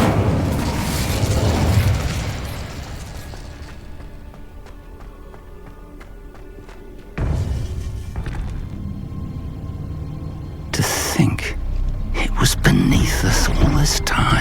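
Loud spell explosions and magical bursts from Hogwarts Legacy combat, booming blasts at the start and again after seven and eleven seconds, with a low rumble between them and game voices shouting over the action.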